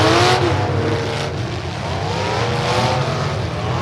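A demolition derby car's engine roars and revs hard at close range, a sustained loud drone with shifting pitch and no voices over it.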